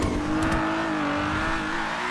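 A Maverick muscle car with a turbocharged V8 swap accelerating in GTA, a loud, steady, close engine drone holding one pitch throughout.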